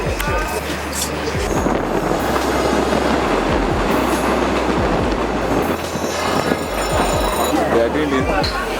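Passenger train running on rails from Tema to Accra in Ghana, heard from on board as a loud, continuous rumble with rhythmic clickety-clack and brief wheel squeals, steady throughout.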